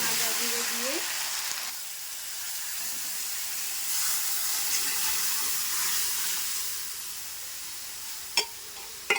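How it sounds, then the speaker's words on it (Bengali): Dal being tempered with ginger in a hot pan sizzles and hisses steadily, a bright frying crackle that holds for several seconds, with a few sharp clinks near the end. "আদা দিয়ে ডালটা কিন্তু আমি সোমবারা দিয়ে দিলাম"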